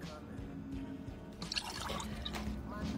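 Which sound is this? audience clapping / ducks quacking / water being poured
water being poured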